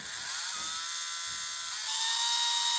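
A small electric motor rotor spools up with no talk over it, a steady high whine that climbs in pitch and grows louder toward the end, heard close up.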